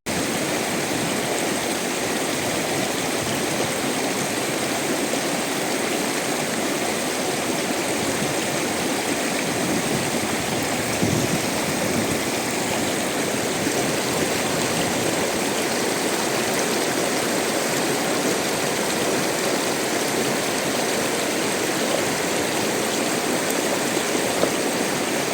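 Steady rushing water of a river in northern Iran where a gold pan is being filled and swirled, a loud, unbroken stream-like wash that continues unchanged throughout with no voices.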